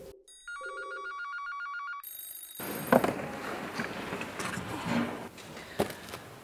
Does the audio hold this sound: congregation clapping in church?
no